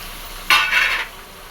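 A kilo of chicken tipped into a hot pan for gravy sets off a short, sharp sizzle burst lasting about half a second, then fades to a low background hiss.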